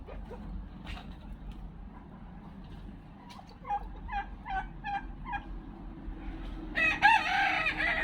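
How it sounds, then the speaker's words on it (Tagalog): Several rapid gobbling bursts from turkeys in the middle, followed by louder overlapping fowl calls near the end, over a low steady background hum. "Ganda ng mga pabo natin."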